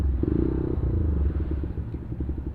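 Motorcycle engines rumbling and idling at a crowded biker meetup in Dhanbad, Jharkhand, a dense, steady low drone of several bikes nearby with no voices standing out.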